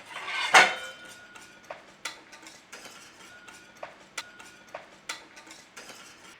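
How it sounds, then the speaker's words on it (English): A spoon stirring parsley into cheese sauce in a pan, starting with one sharp metallic clink and followed by a string of lighter scrapes and taps against the pan at an uneven pace, close and fairly quiet. "In with our parsley, stir it through."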